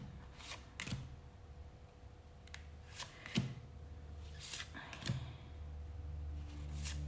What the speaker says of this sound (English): Let's now check your tarot cards.